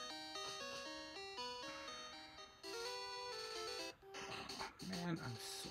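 Pokémon Red plays chiptune game music with a repeating electronic beep, the low-health warning, as the player's Pokémon is hurt inside Mt. Moon. A voice talks over the later part.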